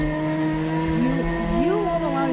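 A go-kart engine drones steadily at Carson Raceway, a constant loud motor hum with shifting pitch as the kart drives, while voices talk over it.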